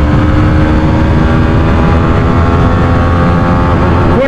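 A Hero Karizma XMR motorcycle engine drones loud and close under heavy wind buffeting, holding a steady high-revving tone as it pulls hard at speed.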